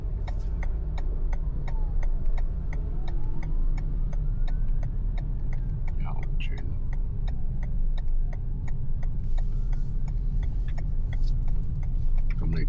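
A private car pulls away on the Ngau Pei Sha driving test route in Sha Tin, Hong Kong. A steady engine and road rumble runs throughout, with a regular ticking indicator clicking over it.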